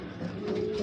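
A grizzle racing pigeon gives a brief, low, close coo under quiet surroundings.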